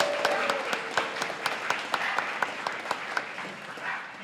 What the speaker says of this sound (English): a round of applause to Sketchbook